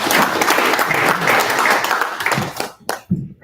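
An audience applauds warmly to welcome a speaker at a Monday lunch event, with dense continuous clapping that tapers into a few scattered claps at the end.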